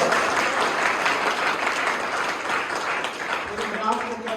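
A church congregation breaks into steady, dense applause that keeps going without a pause.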